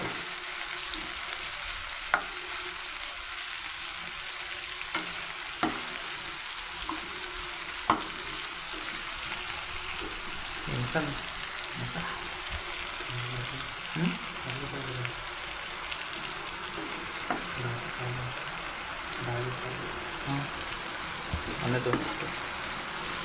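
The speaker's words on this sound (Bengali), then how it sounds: "আমরা এটা ফ্রাই হয়ে আসছে।" Onion, tomato, cashew, ginger and garlic sizzle and fry in a pan, a steady soft crackle with occasional stirring clicks and scrapes throughout, while a voice speaks briefly.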